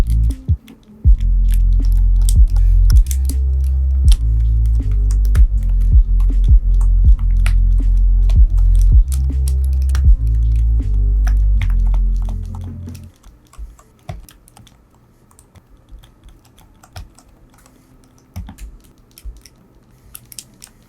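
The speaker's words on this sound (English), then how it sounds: "Let me now start fixing my keycaps back in." Keycaps are pressed back onto a mechanical keyboard, producing scattered sharp clicks and snaps over a loud low rumble for about twelve seconds, then sparser, fainter clicks in quiet.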